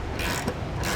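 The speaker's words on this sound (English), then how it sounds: "we'll use a 19mm socket to tighten these" A ratchet with a 19mm socket clicks rapidly up close while tightening nerf bar bolts on a 2018 Ram 1500 pickup, a short dense burst of pawl ticking.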